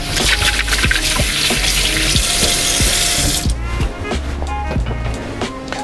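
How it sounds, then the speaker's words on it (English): Running tap water splashes steadily into a sink while hands are washed beneath it, close and continuous, with small knocks and clatter mixed in before the flow softens. "now I'm gonna wash my hands"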